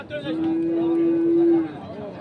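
A single long, steady moo from a bull at a busy Bangladeshi cattle market ahead of Qurbani, loud and close, with crowd noise and voices around it.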